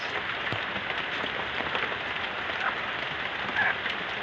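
Steady rain patters on a surface at an animal-raising farm, a dense even hiss with scattered louder drops, fairly soft and unbroken.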